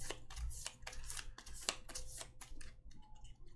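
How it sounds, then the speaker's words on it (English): A deck of game cards is shuffled by hand in a few quick riffles and flicks, close and soft, with light rustling between bursts. "try not to look as I shuffle the movement deck around"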